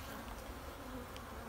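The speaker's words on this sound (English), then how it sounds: "Look at the bees right there. Holy smokes. This is a hive." Honey bees buzz in a strong hive, a dense, continuous hum close by with no voices.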